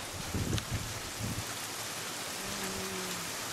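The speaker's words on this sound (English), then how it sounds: "It's raining." Steady rain falling outdoors, a broad soft hiss with a few low thumps and rustles nearby.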